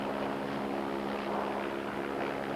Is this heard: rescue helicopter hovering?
yes